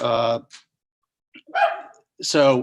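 A dog barks in three sharp, close, loud bursts separated by brief silences, with a short spoken word among them.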